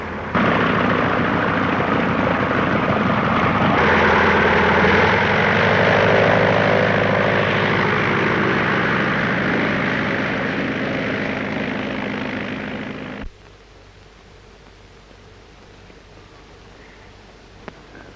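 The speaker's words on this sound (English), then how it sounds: "Get the number of that plane." A 1930s propeller airplane passes overhead, its steady engine drone loud and continuous for about thirteen seconds before abruptly cutting to quiet near the end.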